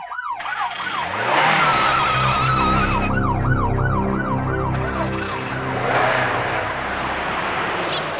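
An ambulance siren wails, rising and falling repeatedly, loud and close, over the rumble of a running engine, with a brief higher electronic tone partway through.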